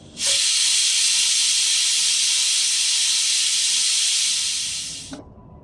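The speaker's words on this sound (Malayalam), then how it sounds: "കുക്കർ അടച്ച് വെച്ച് രണ്ട് വിസിൽ വരുന്നത് വരെ കുക്ക് ചെയ്തെടുക്കാം" A pressure cooker cooking tomato soup lets out one loud, close, continuous hiss of escaping steam. The whistle holds steady for about five seconds and then cuts off abruptly, with no talk over it.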